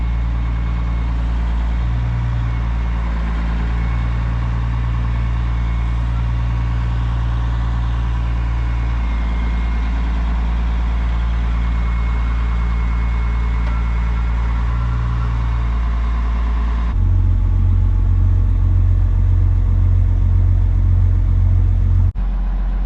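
A heavy machine engine rumbles steadily at idle while lifting a rebuilt Cat engine out of a mining truck. The low, continuous drone grows louder and rougher near the end, with no talking over it.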